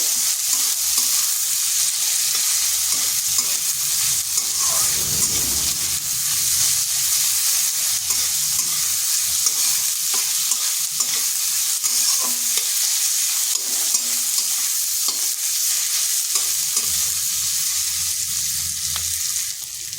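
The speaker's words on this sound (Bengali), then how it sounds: "পেঁয়াজটাকে একটু ভেজে নেব।" Sliced large onion frying in a pan with a steady broadband sizzle, while a spatula stirs through it with scraping strokes, close and continuous throughout.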